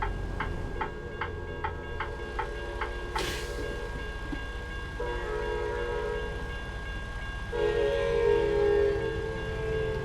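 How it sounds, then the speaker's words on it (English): An Amtrak train in a truck-driving video game rumbles past steadily with a series of rhythmic clicks early on, then a loud horn-like blast swells near the end over the continuous rolling noise. "Oh, and I hear a train."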